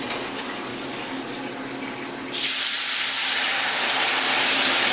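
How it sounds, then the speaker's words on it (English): Water suddenly starts pouring into a cooking pan of leftovers in a steady, hissing rush after a couple of seconds of low background noise, continuing without a break. "gonna add some water to this"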